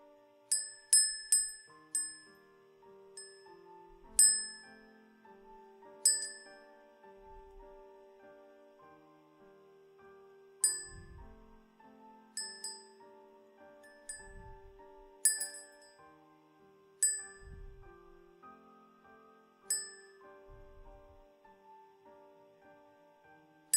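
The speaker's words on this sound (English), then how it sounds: "Oh, you prefer the bell sounds too?" Small bells are struck one at a time in a slow, irregular sequence, each bright ding ringing out and fading, with occasional soft low thumps from handling in a quiet, close setting.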